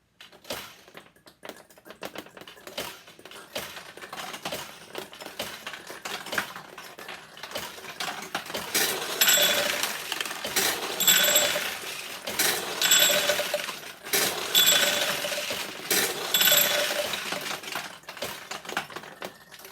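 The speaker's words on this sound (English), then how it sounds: "the balls can drop inside the machine in a variety of places" Steel balls drop and clatter through a vintage 1975 Nishijin Model B pachinko machine. A light, rapid rattle builds into a dense, busy flurry of metallic ticks and pings at close range.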